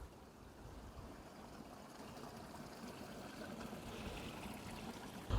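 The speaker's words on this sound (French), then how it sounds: "ici après on a le ruisseau qui coule" A small stream gurgles and trickles softly and continuously, faint and close, with no one speaking.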